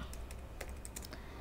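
Quick, close keystrokes on a computer keyboard while entering code, with soft irregular clicks over a low background hum.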